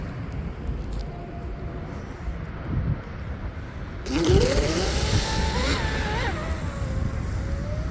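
M950 RC speed car with a Tenshock EVO2250HP motor on a speed run, a high electric whine rising and falling as it passes, over steady wind-like background noise.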